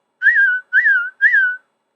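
A person whistles three short, identical descending notes in an even rhythm, clear and close, against silence. The whistling comes during a read-aloud of Disney's Pinocchio.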